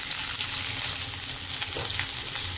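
Chopped garlic and onion sizzle steadily in hot oil with spices over medium heat, a dense, continuous frying hiss close by with no talk.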